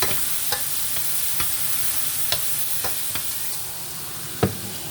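Jamaican food sizzles and crackles steadily in hot oil in a frying pot while a utensil stirs through it, with a few sharp clicks and pops standing out.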